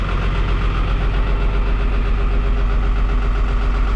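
A 1975 diesel squarebody truck engine idles loud and close, with a steady, even knocking pulse and a constant low rumble throughout and no voices.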